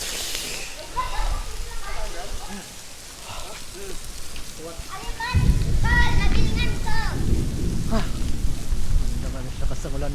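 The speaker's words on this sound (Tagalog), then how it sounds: "Lakas ng ulan na dito." Heavy rain pours down beneath the San Juanico Bridge, a loud continuous hiss and patter that thickens midway, with people's voices talking over it.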